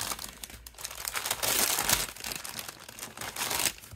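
A plastic bag is crinkled and rustled up close while a craft set is unpacked, giving irregular crisp crackling bursts with no speech.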